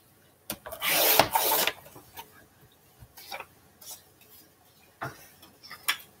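A wooden box lid being trimmed: a loud rasping scrape at the start, then scattered light wooden taps and short rubs, close by and with no talking.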